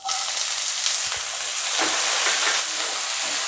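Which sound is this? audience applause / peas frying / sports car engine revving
peas frying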